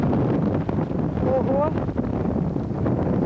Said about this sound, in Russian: Какой ветер сильный!